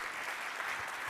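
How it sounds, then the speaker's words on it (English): An audience gives a short burst of steady applause, moderately loud and continuous. "Give them a round of applause."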